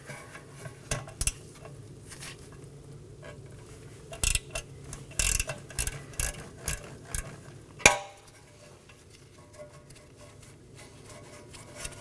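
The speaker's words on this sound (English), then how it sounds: "Remove it using a wrench." A wrench works a 12mm bolt on a bracket near the rear knuckle of a 2018-2024 Toyota Camry, making scattered metallic clicks and ratcheting taps. A sharper clank lands near the end, with quiet gaps between.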